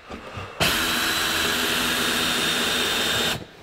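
A power driver sets a triple coated decking screw into wood, starting abruptly into a loud, steady whirring buzz that holds for about three seconds and then cuts off, with no talk.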